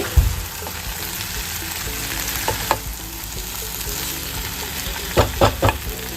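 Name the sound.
potato curry stirred with chaat masala in pan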